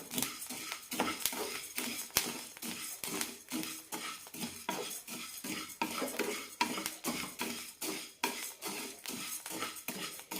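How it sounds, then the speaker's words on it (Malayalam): Rice roasting in a pan over medium flame is stirred continuously, producing steady, rhythmic scraping and rattling of a utensil against metal, close and fairly quiet. "ഇനി തുടരെ ഇളക്കി കൊടുക്കാം"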